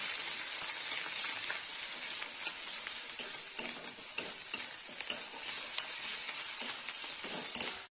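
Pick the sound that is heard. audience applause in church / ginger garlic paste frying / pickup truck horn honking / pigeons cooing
ginger garlic paste frying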